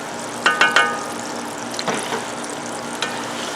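Green chilies fry in beef lard with a steady background sizzle, punctuated by a quick run of three clinking stir strokes and a few softer scrapes of the pan.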